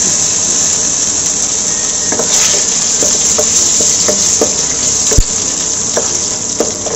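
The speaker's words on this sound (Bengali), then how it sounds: "রসুনটা দিয়েও আমি 30-40 সেকেন্ডের মতো নেড়ে নেব" Chopped garlic sizzling in oil for an arhar dal tempering, a loud continuous close-up hiss with soft spatula scrapes and taps as it is stirred; no talking.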